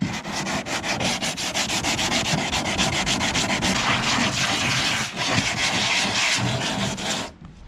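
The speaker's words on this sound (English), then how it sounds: "we're sanding this to make a nice porous surface for the Bondo to bond to" Close, continuous scratchy sanding of a car body panel before Bondo, with a rapid back-and-forth rhythm, loud and steady for several seconds before stopping near the end.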